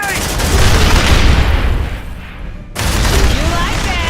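A grenade blast and heavy gunfire in an Aliens: Dark Descent battle, loud and continuous, with a brief drop in the roar before the firing surges back.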